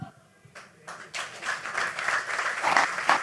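An audience applauds two panelists at the close of a business panel discussion, clapping building from sparse to a fuller, steady round.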